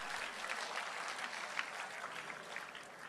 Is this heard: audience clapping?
yes